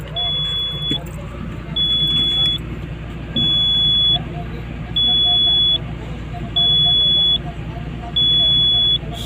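Alarm buzzer of a Komatsu PC200-8 hydraulic excavator beeping in six regular, evenly spaced high-pitched pulses, each about a second long, over steady engine rumble and background noise, with faint talk underneath.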